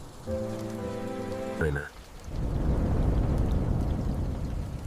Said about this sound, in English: The storm started around 11 o'clock while the family was away.